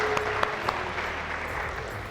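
A studio audience at a Hindi talent-hunt TV game show claps steadily for about two seconds, moderately loud with a few sharper claps.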